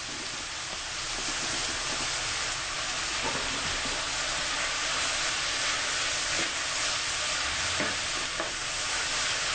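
Spaghetti meat sauce seasoned with Italian seasoning and black pepper is stirred in a pan: a steady, close sizzle runs throughout, with soft scraping strokes of the spoon now and then.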